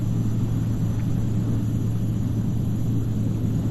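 A light airplane in flight drones with a steady, loud engine rumble inside the cockpit, a constant low hum with no breaks or talk.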